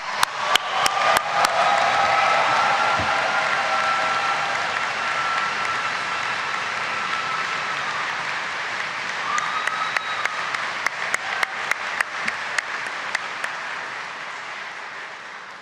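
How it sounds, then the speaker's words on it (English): A graduation ceremony audience at Caird Hall fills the room with loud applause and cheering. Sharp percussive stomps and claps punctuate the start, fade into a sustained roar, then return in a rhythmic burst near the end. "really make noise and really cheer and stomp your feet"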